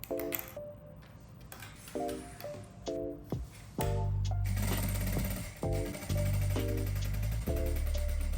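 A sewing machine stitching fabric for a front-tie top runs in repeated short bursts, then longer steady rattling runs, close and prominent with no talking.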